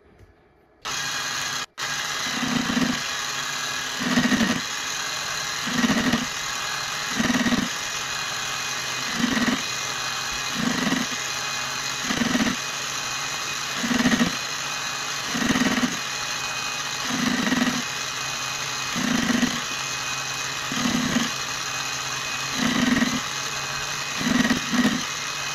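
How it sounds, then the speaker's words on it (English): Proxxon MF70 mini milling machine with a gear cutting attachment taking a finishing cut on a small gear: a steady motor whine with regular rhythmic pulses of the cutter about every second and a half, no speech. "Now I will do the finishing cut and hopefully I'm exactly in the dimensions that Model 1"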